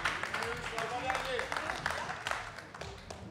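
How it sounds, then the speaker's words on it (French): Audience applause for a team at a political quiz show, a soft continuous patter of many hands clapping at a distance while voices carry on in the room. "On peut les applaudir."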